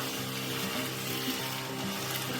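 Hot stock ladled into French onion risotto in a pan and stirred: a continuous bubbling sizzle with light sloshing and stirring, close and steady, no talk.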